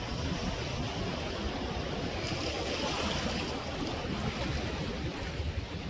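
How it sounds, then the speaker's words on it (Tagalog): Constant roar of strong ocean waves washing onto a beach shore, dense and loud, with a broad rushing hiss throughout and no voices. "Dito kami sa tabing dagat, guys. Ang lakas ng alon."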